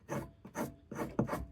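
A rasp files a wooden bow grip by hand in four rough, rhythmic strokes, close and loud, with short pauses between passes.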